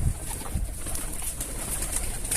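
Young pigeons coo softly and repeatedly amid a bright, hissy background, with a few faint rustles nearby and no talking.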